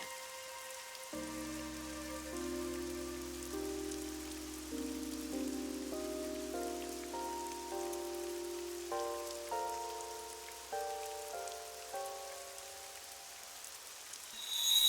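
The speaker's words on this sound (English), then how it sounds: "It's raining." Rain falls in the video game AI: The Somnium Files as a steady soft patter beneath gentle melodic music, with no voices.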